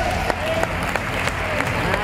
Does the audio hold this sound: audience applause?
yes